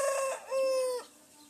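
A rooster crows nearby, one drawn-out call with a rising and falling tail, followed by softer clucking from hens in a village yard.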